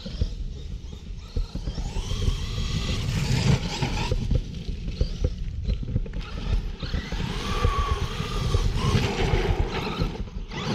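A Traxxas E-Revo 2.0 RC car drives around nearby, its electric motor whining and rising and falling in pitch with bursts of acceleration and gravel or tire noise, continuous and fairly loud, with a brief shout.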